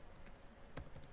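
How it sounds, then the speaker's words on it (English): Several crisp keyboard keystrokes on a computer keyboard, spaced irregularly across a short moment, close and fairly quiet, with no talking. "I'm just going to type in"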